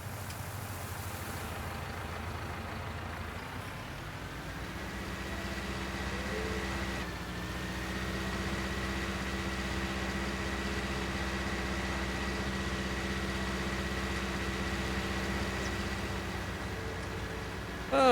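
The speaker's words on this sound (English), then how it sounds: "Oh, this tractor has quad ribs on it" A tractor engine idling in Farming Simulator 19, holding a steady low hum that shifts pitch slightly partway through and then settles into a constant drone.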